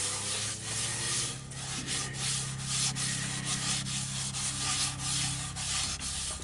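A cloth or hand rubs finish into a tulipwood bowl held still on a lathe, a steady close scuffing rasp with rhythmic back-and-forth strokes over a low background hum.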